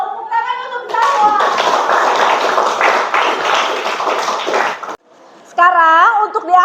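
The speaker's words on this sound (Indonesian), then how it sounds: "Tepuk tangan untuk Zahwa." Schoolchildren in a classroom clap for a classmate in a brisk, close burst of many small hands, with a teacher's voice speaking before and after the clapping.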